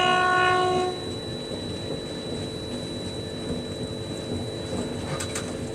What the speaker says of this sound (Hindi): कन्याकुमारी रेलवे स्टेशन से जैसे ही ट्रेन निकलती है